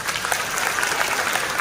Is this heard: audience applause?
yes